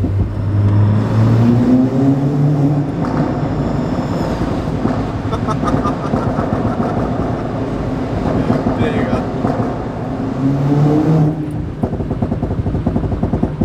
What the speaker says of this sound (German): Ich bin jetzt im dritten gefahren und wir sind jetzt von ungefähr 2000 Umdrehungen auf 5000 haben wir jetzt gedreht